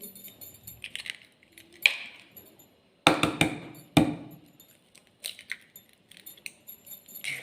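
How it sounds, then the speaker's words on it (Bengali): Two eggs are cracked into a dish while making begun sundori, an eggplant dish: a few sharp, close taps and clinks against the bowl, separated by quiet kitchen pauses. "এবার দিয়ে দিচ্ছি দুটো ডিম"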